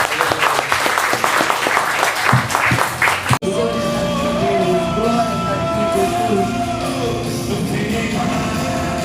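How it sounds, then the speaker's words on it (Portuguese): A church congregation claps loudly for Jesus, with scattered cheers and whoops mixed into dense applause, which cuts off abruptly into music. "Aplauda Jesus."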